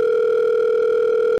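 A telephone tone sounds while a call is placed from a car over Bluetooth: one loud, steady electronic tone near and alone, lasting over a second before cutting off abruptly.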